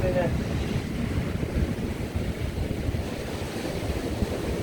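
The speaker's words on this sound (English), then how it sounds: "we've got some big waves coming in" Big sea waves breaking on a windy UK beach, a continuous rushing wash of surf with wind buffeting the microphone, fairly close and steady.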